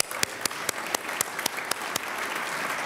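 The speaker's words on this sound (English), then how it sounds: "Please join me in another round of applause for Ambassador Levinsky." Audience applause for a departing ambassador after a world affairs lecture, steady dense clapping from a room of listeners with a few sharp louder claps standing out, continuing for about three seconds without speech.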